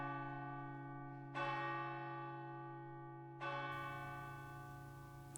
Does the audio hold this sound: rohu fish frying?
no